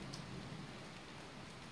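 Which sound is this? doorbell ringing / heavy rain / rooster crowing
heavy rain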